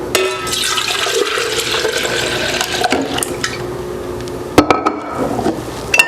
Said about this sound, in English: And then I pour it into my jar.